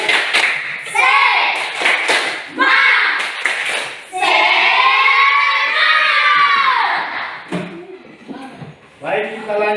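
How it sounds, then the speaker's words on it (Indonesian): A school class doing the 'tepuk semangat' spirit clap, children chanting and shouting together in rhythm with sharp clustered claps, loud and close, with a long sustained group shout in the middle. "Ya, tepuk semangat."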